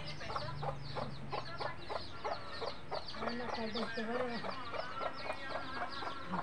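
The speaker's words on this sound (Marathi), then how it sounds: "हे कोंबडी आमच्या वहिनीने बसवली बा." A hen settled by a sister-in-law in a Maharashtra village yard clucks repeatedly in short rhythmic bursts, close by, with a lower bird call briefly woven in and faint voices in the background.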